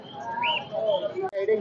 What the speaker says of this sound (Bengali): এই জায়গায় একটা কালদম কবুতর আছে